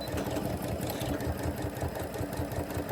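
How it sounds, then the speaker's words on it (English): A sewing machine stitches and backstitches quilt pieces made from charm packs, giving a rapid, even mechanical whir that runs steadily and close throughout, alone. "So I'm going to place this one, and then I'm going to backstitch."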